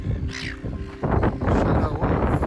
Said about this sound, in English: Noisy little gulls.